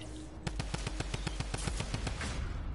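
Rapid automatic gunfire in Fortnite, a loud steady string of about fifteen close shots over a constant background rumble, with no speech.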